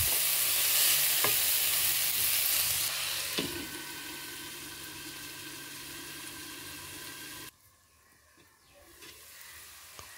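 Vegetables for lemon rice are stirred and fried in a pan, giving a steady loud sizzle with scraping stir strokes that eases down partway through and then drops to near quiet near the end.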